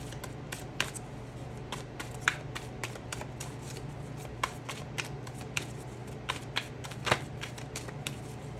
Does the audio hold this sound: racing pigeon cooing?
no